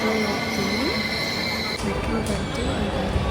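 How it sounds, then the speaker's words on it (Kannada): A metro train pulls into a station with a loud, steady rumble, squealing wheels and a high hum that shifts midway as it slows, heard up close without a break. "ಮೆಟ್ರೋ ಬಂತು"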